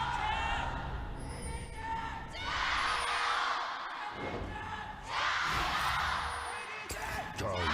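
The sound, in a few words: esports arena crowd cheering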